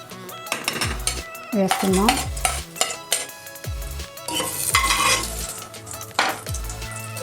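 Spices sizzle in hot oil in a pressure cooker under frequent metallic clanks of a spoon against the pot, a crackling frying hiss punctuated by sharp ringing knocks close by.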